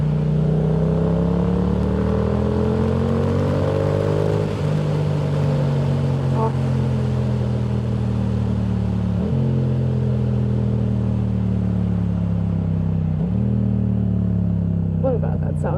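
Yamaha MT-07 motorcycle engine while riding, a loud continuous throaty drone with rising pitch through the gears and brief dips at each shift.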